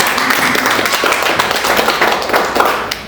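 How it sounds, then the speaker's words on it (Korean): A church congregation claps together during a Sunday worship service, a loud, sustained burst of many hands with a crisp patter that gradually thins toward the end. "박수"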